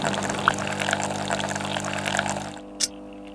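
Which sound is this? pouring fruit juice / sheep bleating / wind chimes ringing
pouring fruit juice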